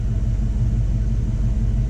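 A car engine idles steadily during a cooling system bleed, a low continuous rumble holding even and close throughout with no talking.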